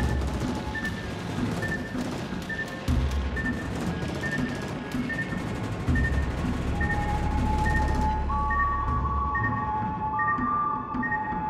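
Warships in World of Warships: Legends fire naval guns in repeated booming salvos, with distant explosions and a steady rumble under electronic tones and beeps.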